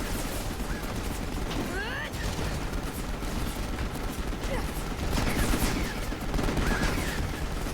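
Gunfire from a Final Fantasy XV battle, dense and continuous over a busy layer of game effects and music, with a few sharper bursts; no speech in the clip.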